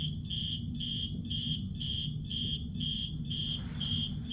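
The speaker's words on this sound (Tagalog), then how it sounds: "my alarm goes off." An electronic alarm goes off with a loud, high-pitched beep repeating in an even, fast rhythm. It carries on steadily and alone, over low background hum.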